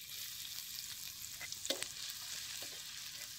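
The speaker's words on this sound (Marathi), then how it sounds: "ते लसूण आणि जिरं चेचलेलं हे तेलात टाकायचं।" Crushed garlic and cumin hit hot oil over a village wood-fired stove, giving a steady close crackling sizzle with small pops and a brief stir near the middle, no talk.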